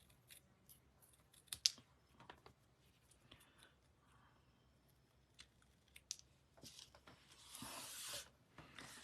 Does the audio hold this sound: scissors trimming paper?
yes